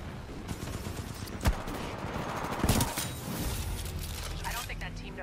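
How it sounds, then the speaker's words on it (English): Gunfire from Titanfall 2 with a Hemlock rifle: sharp single shots and short bursts crack out over a busy game soundscape while a voice talks through most of the moment. "I don't know where the shots are coming from."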